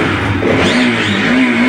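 A motorcycle engine runs in neutral, a loud close-up idle with a steady low hum and a slight rise in pitch, heard alone for under two seconds.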